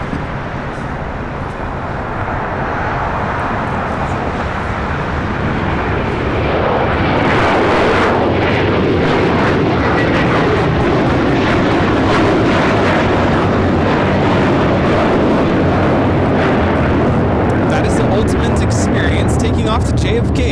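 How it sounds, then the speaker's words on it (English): JetBlue Airbus A321 jet taking off from LAX bound for JFK, a loud, steady broadband engine roar that swells and holds across the whole stretch, with people talking over it. "Off to JFK, JetBlue 524. It's an A321."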